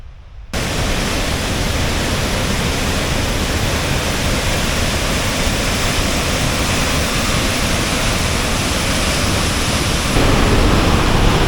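A powerful waterfall in Alaska roars steadily, a dense continuous rush of falling water close by, with no voices over it.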